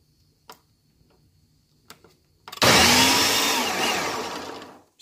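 A blender roars to life after a few quiet clicks and grinds beans for koki steadily and loudly, its whine slowly easing toward the end.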